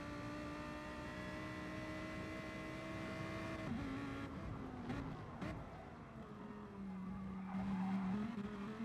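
Race car tires squealing while drifting in Gran Turismo Sport, a sustained engine drone with shifting pitch and tire skid noise, fairly quiet throughout and steady with no talk.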